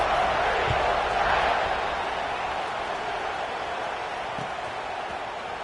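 A football stadium crowd cheering after a touchdown drive, a broad steady roar that gradually eases off, with a commentator talking over it.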